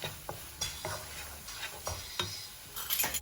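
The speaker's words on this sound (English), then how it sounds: "Just going to give it a good mix." Turmeric, garam masala and ground coriander are stirred into a black-eyed bean curry base in a pan, a soft sizzle under a series of irregular spoon scrapes and taps.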